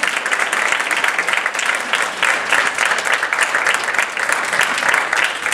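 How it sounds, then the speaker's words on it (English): Applause at a National Junior Honor Society induction ceremony, a steady, moderately loud wash of clapping from a seated audience, sustained evenly without talk. "give them a round of applause"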